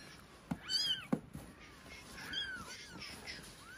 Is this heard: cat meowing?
yes